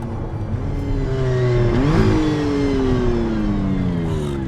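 A McLaren Artura supercar, driven hard, revs loud and close, its engine note climbing then swooping down through the gears as it brakes, steady and dominant throughout.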